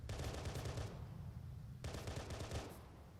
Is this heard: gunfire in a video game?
yes